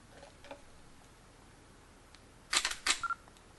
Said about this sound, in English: the camera slammed the mirror down, close the shutter, slam the mirror up, took the picture.